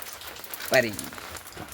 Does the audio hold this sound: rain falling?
yes